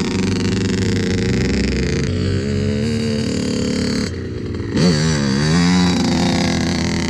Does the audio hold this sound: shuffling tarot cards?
no